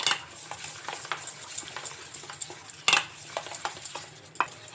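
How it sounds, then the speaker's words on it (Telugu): A spoon stirs a thick gram flour batter seasoned with chilli powder and cumin powder in a bowl, giving soft repeated scraping strokes and a few sharper clinks against the side. "ఇంకా మొత్తం ఒకసారి ఇలా బాగా కలుపుకోవాలి"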